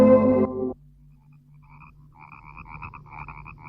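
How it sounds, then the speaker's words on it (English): Frogs croak in a steady chorus from the marshes, a dense pulsing mass of voices heard at some distance, after a loud musical sound cuts off at the start. "There must be millions of them in those marshes. The frogs."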